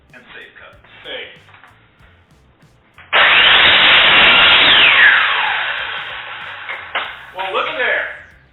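A power saw biting into a wooden board for a kitchen island, a loud whining cut lasting about two seconds with the tone dropping as it slows, framed by talking before and after.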